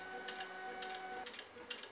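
A homemade dot matrix printer converted from a ZoneStar 3D printer taps out quiet bursts of rapid mechanical ticking in a loose rhythm over a faint steady whine.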